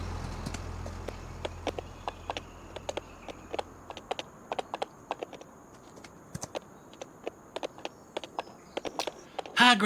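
Horse hooves clop at a steady walking pace in the Farming Simulator 25 video game, crisp and close, with a low hum fading out early and no talking.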